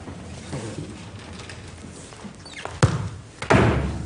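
A football shot thudding against a goal wall in a TV sports studio shooting challenge, two sharp impacts near the end over low studio ambience.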